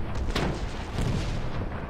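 Steady gunfire and heavy booms in the war game Foxhole, two or three strong blasts over a dense, loud wash of battle noise, close and continuous throughout.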